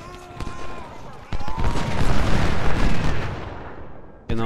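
Musket volleys and booming artillery fire from the Civil War strategy game Ultimate General, with sharp crackling shots and a dense rumbling barrage swelling in the middle before a final blast.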